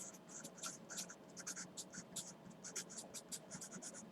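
Marker or chalk scratching across a board during a math lesson on the associative law: quick, rhythmic, scratchy strokes and squeaks, fairly close, with a low voice faintly underneath.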